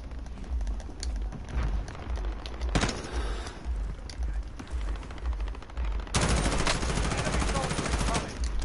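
Rapid automatic gunfire in Call of Duty Warzone, sustained bursts of loud close shots, with a sharp single blast midway and a dense, heavier volley toward the end.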